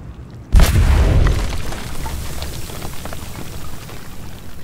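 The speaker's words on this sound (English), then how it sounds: "Get down, it's gonna blow!" C4 charge detonating in the sci-fi game Alien: Dark Descent: a sudden loud close boom with heavy low rumble, followed by a fading debris-like crackle and patter that trails off over several seconds.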